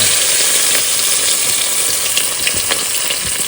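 Prawns frying in hot oil on a cooking fire in the Sundarbans: a loud, steady, dense sizzle and crackle that continues without a break and without any talk.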